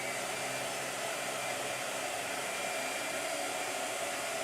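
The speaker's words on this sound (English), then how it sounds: "Blow dryer." A hair dryer blows continuously at steady power, a loud, even broadband whoosh with no pauses or talk.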